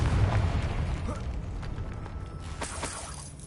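A Confringo blasting spell explodes in Hogwarts Legacy, opening with a deep rumbling boom that trails off, then a couple of sharper crackling bursts near the end.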